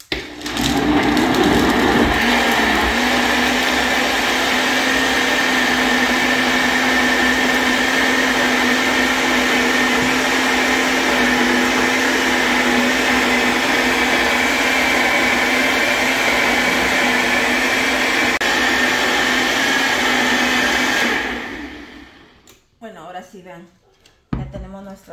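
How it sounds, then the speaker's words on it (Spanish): A blender blending a sauce for chicken stew whirs loudly and continuously for about twenty seconds, a steady motor drone that winds down abruptly, followed by faint clattering. "Ahora sí, vamos para la licuadora a licuarlo"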